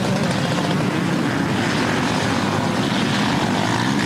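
Enduro motorcycles start and rev together at the start of a 1997 cross-country race in Schefflenz, Germany, making a loud, dense, unbroken engine roar that fills the whole stretch.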